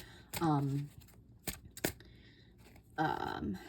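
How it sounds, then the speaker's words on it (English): Tarot cards are shuffled and drawn, with crisp riffling and sharp snapping flicks between passages of someone talking close by. "let's pull three for A, how does he feel about Trump, and then three more cards"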